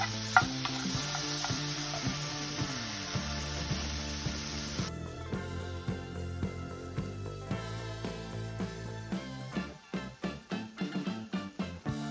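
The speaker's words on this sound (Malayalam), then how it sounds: "നന്നായി മിക്സ് ആവുന്നവരെ നമുക്ക് ഇളക്കിക്കൊണ്ടിരിക്കാം" Banana and semiya snack mixture stirred in a pan, with a steady sizzle and scraping that runs continuously under a tonal background, turning into sharper, choppier stirring strokes near the end.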